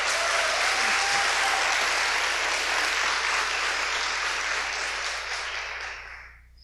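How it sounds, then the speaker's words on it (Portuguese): Sustained audience applause at a women entrepreneurs' forum, broad dense clapping filling the room steadily before tapering off at the end. "Salva de palmas para Ana Fontes."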